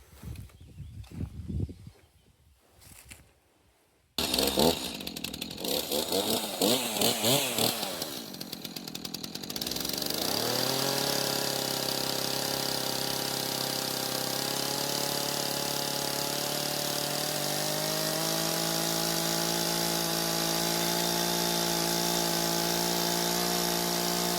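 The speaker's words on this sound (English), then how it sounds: "I'm going to go for the old-fashioned chainsaw and just do it that way" A chainsaw starts up after some clatter, then runs loud and steady for a long stretch, its engine droning continuously at close range.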